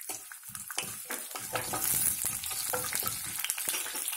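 Tempering spices such as mustard seeds, cumin, urad dal and chana dal frying in ghee and oil for coriander rice, a close crackling sizzle with scraping stirs and small pops, steady and without talk.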